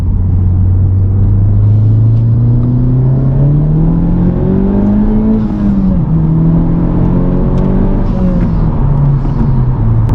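A loud engine of a 2021 Honda Civic Type R with an aftermarket PRL intake revs up and holds, its droning pitch rising and falling with throttle over a deep steady rumble, heard from inside the car.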